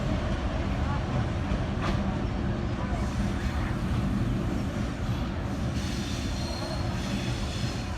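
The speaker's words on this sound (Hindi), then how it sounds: "GEU24570 Cheeta locomotive, my favourite." A Millat Express train hauled by the GEU24570 Cheetah locomotive rumbles steadily, with a constant roar of wheels on rails and faint squeals throughout, heard up close from on board.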